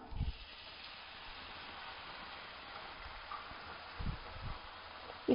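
Water poured into a hot pan of elephant yam stir-fry, giving a steady, moderately faint hiss and sizzle that runs throughout with a few brief low thumps.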